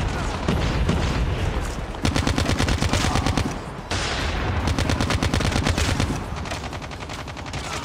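ICR Dark Matter rifle in COD Mobile, rapid sustained automatic bursts with tight, fast rhythmic cracks, loud and close, broken by short pauses between strings of fire.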